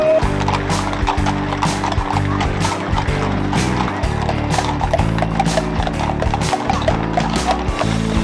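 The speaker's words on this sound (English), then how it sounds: "The rodeo kicks off and the cattle drive enters town." Horses enter town during a rodeo cattle drive, with steady clip-clop hoofbeats on pavement under loud western music, the rhythm continuous throughout.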